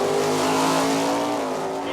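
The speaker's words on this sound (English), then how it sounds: "here's what happens when some of the top muscle cars in the country gather" Loud, continuous roar of powerful muscle car engines at full throttle at a heads-up top stock drag racing shootout, a dense rumble with a faint squeal of tires, close by.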